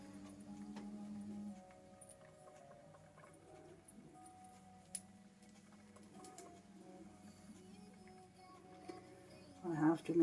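A treadle Singer sewing machine stitching quilt patches makes a quiet, steady mechanical ticking and whirring, close by, with a person talking over parts of it.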